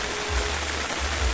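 Steady rain falls on an open farm field planted with corn, a continuous broadband hiss with low rumbling wind gusts, close and fairly loud, with no talking over it.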